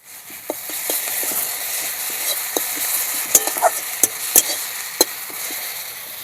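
Onions frying in a pan with whole garam masala, bay leaf and dried red chilli as garlic is added, a steady close sizzle broken by repeated sharp clicks of a spoon stirring against the pan.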